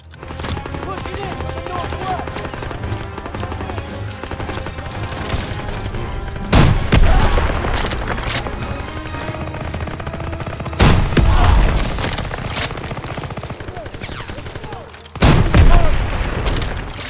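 Shotgun fire in Call of Duty: WWII, three loud booming blasts spaced several seconds apart over continuous dense battle noise and background gunfire.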